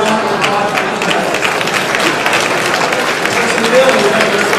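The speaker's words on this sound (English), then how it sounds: "We'll give a special round of applause to each of" A crowd at an annual awards dinner applauds steadily for several seconds, a continuous even wash of clapping with some talk mixed in.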